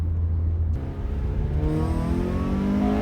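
A 2010 Toyota Corolla Altis with its stock 2ZZ-GE engine accelerates in second gear, a steady rising drone heard close from inside the car with no talk.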